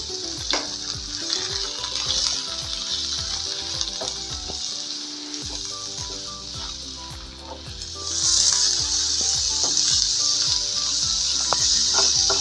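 Vegetables sauté and sizzle in a pan after salt goes in, a steady bright frying hiss with frequent spatula scrapes and stirring clatter, growing a little louder near the end.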